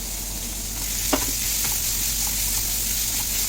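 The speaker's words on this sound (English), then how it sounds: "we'll put in all these into the pan and just fry it for a while" Green chilies, ginger and garlic frying in a pan, giving a steady close sizzle throughout, with a few light clicks from stirring.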